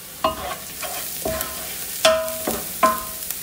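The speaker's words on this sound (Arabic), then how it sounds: "ابي البصلة تنقلي مع البهارات علشان تعطيني نكهة لذيذة حق الكبسة" Onion fries with coarse ground spices for kabsa, a soft sizzle underneath while a utensil clinks and scrapes the pan about five times in uneven stirring strokes, close and moderately loud.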